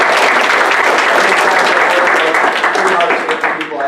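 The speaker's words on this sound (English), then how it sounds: "I want everybody to give an applause to K Tetch" Loud, dense applause fills the room as a convention panel audience at Dragon Con claps together, steady and close before tapering slightly toward the end, with some voices mixed in.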